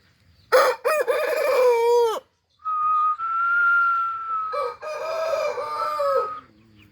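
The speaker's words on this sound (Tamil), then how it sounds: "இப்போ தான் இது கூவுது. ஒரு 2 நாளாக தான் கூவிட்டு இருக்குது." A rooster of a wild jungle fowl breed crows loudly nearby on a farm, a couple of drawn-out crowing calls with short pauses between, with no talking over them.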